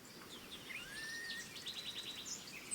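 Open, wide grassland ambience carries faint, scattered birdsong, with several short chirps and thin trills rising over a quiet, soft background hiss and a hint of insects.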